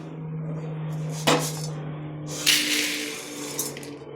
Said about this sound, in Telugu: ఇప్పుడు దీన్ని కూడా ప్లేట్లో పెట్టేసుకుందాం.